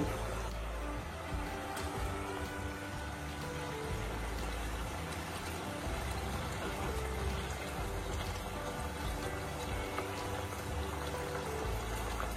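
Water pours into a pan of hot oil while dhokar dalna cooks, giving a steady, loud rushing and bubbling hiss that runs unbroken throughout.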